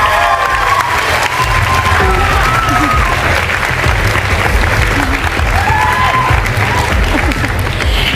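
A loud crowd at the Miss Universe Australia 2026 coronation night applauds and cheers the final ten contestants, dense sustained clapping with shouts and whoops throughout.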